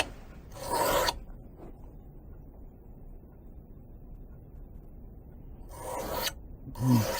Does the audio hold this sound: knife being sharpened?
yes